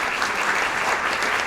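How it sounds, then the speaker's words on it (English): Brief burst of dense audience applause for a violin soloist at a concert event, steady and full throughout. "Let's give him a round of applause."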